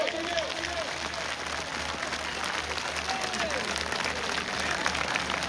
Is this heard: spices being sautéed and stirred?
no